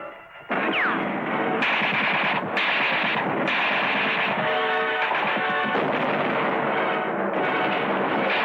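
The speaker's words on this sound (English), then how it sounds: "American tanks in the infield fired their guns point blank at enemy defenders who were hidden in the grandstands" Point-blank gunfire from American tanks in a stadium infield aimed at defenders in the grandstands: continuous dense battle noise of overlapping shots and booming blasts, loud and sustained with no speech.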